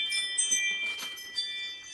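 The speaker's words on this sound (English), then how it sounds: "Jangly doorbell" A jangly doorbell rings with a bright, tinkling metallic chime that repeats through the moment, heard faintly at a distance against a quiet room.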